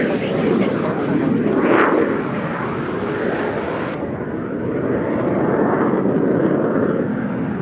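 A de Havilland Chipmunk formation flies past at an airshow, a steady droning propeller engine rising and fading at moderate distance, with radio voices talking over it.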